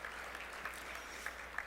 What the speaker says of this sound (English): can we give a shout out and a round of applause for everybody that's in the healthcare workforce